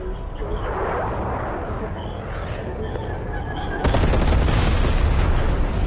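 Artillery strike in the multiplayer game Black Ops Cold War: dense, rumbling explosive bursts that swell and surge louder toward the end, layered under game voice callouts.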